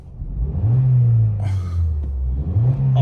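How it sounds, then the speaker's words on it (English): A high-mileage Vauxhall Astra with 187,000 miles gets a couple of revs, its engine rumbling up and holding a raised idle before a second rise near the end, close and steady with no talk. "Give it a rev."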